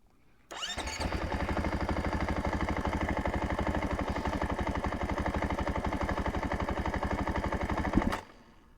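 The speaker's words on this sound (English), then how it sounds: "As you can see, the bike had an issue running and it would cut out when you give it those big throttle inputs." An Athena Get SX1 motorcycle engine roars at sustained high revs, loud and close with a rapid pulsing firing rhythm, holding steady for several seconds before abruptly cutting out and stalling to silence.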